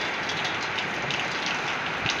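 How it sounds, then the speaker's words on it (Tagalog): Heavy rain pours down steadily, a dense continuous hiss with scattered heavier drops and drips, loud and close throughout. "napakalakas talaga ng ulan sa ngayon"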